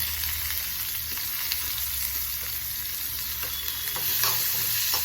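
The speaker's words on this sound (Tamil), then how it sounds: "கொஞ்சம் கடாயை வச்சு கொஞ்சம் எண்ணெய் விட்டுண்டு கடுகு, வெங்காயம்," Mustard seeds and onions sautéing in oil in a kadai, a loud, continuous close sizzle with faint stirring scrapes underneath and no voices.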